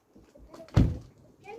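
A Lexus GS450h mk4 car door gives one solid thunk near the middle, close and fairly loud, with faint rustling and movement before and after it.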